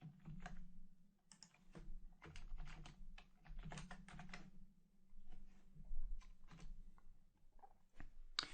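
Typing code on a computer keyboard: quiet, close clicking of keys in irregular runs and pauses over a steady low hum.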